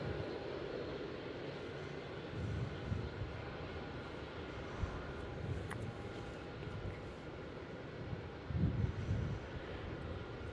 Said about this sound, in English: Just 832, runway 27, cleared for takeoff.